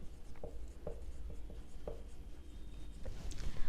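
A pen scratches across paper in short strokes and taps, close but quiet, with soft room noise behind it and no one speaking.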